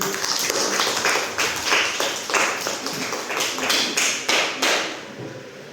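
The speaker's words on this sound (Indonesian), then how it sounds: "Ya, tepuk tangan untuk Zaki." A classroom of students claps for a classmate, bursts of hand clapping rising and fading in several waves, close and fairly loud.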